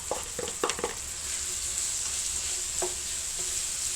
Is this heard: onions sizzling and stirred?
yes